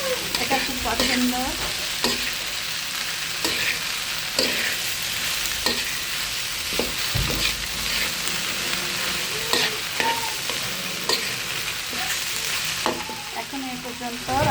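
Sliced okra sizzles in a hot pan while a spatula scrapes and stirs it at irregular intervals, a steady frying hiss under close, clattering strokes, with no talking.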